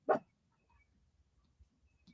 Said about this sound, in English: You heard that dog barking, Prinny?